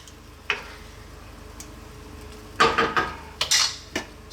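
A lid goes onto a pot of simmering, super-spicy Malvani chicken coconut curry, with a quick cluster of close metallic clanks and rattles after a single earlier tap.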